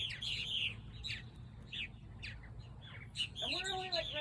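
Birds chirping and tweeting at a nature park at sunset, a scatter of short bright calls over a low rumble of wind or traffic, with a more tonal call rising near the end.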